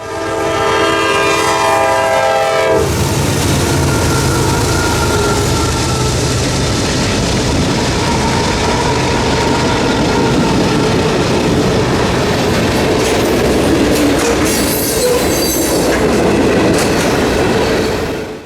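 Freight train Q455 hauls heavy locomotive power south toward Jacksonville, opening with a loud horn blast, then a continuous roar of engines and rolling wagons with clickety-clack wheel noise passing close by.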